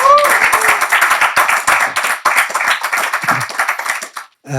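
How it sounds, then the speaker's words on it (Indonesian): A studio audience claps for guitarist Dewa Budjana, a brisk burst of close hand claps with talk layered over it, fading out near the end. "Tepuk tangan buat Dewa Bujana."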